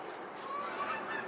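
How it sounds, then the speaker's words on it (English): Canada geese in a flock flying by, faint distant honks in a brief burst over soft background noise. "Canada geese are flying by in a flock right now"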